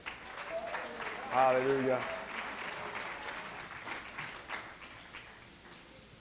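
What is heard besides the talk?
congregation clapping hands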